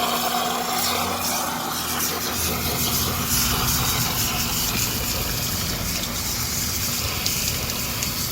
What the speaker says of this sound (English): the main water line is turning on, and it's starting to fill it back up.